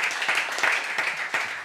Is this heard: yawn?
no